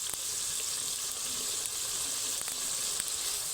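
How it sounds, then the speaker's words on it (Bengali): Spice paste sizzling and frying steadily in hot oil in a pan while cooking a stuffed papad curry, a continuous close hiss with faint stirring clicks and no talk. "এবার 2 থেকে 3 মিনিটের জন্য মশলাটা ভালোভাবে কষে নেব"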